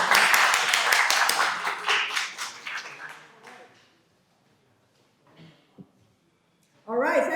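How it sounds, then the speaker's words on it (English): An audience at a career forum applauds, dense close clapping that fades out over about three seconds into near silence, with a brief tap before a voice starts speaking. "Can you please give her a round of applause?"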